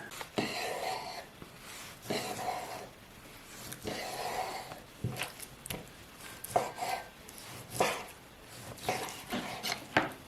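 Repeated knife chops dicing chicken into roughly one-centimetre cubes on a cutting board, steady rhythmic thuds close by, with faint clinks of kitchenware between strokes.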